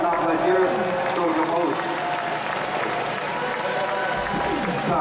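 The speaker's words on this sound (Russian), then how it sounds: "Под ваши бурные аплодисменты, ребята, аплодисменты." Applause from an audience in a hall, steady and fairly loud throughout, with voices mixed in.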